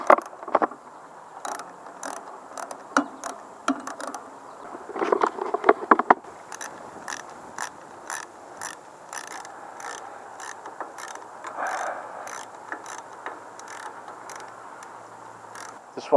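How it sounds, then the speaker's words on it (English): Close ratchet clicks come in short, irregular bursts with pauses between them as cylinder head bolts are snugged down on a Briggs & Stratton small engine. "Now before I torque these down, I'm just going to snug them all up."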